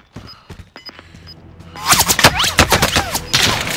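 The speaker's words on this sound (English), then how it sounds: "Taking direct fire." Gunfire in the Call of Duty: Modern Warfare video game, a few isolated sharp shots at first, then a dense, loud burst of rapid automatic fire and overlapping shots filling the second half.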